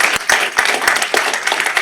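Applause breaks out at a parish council meeting, a close, loud flurry of individual hand claps with distinct sharp slaps over a brief stretch, with some voices in the room.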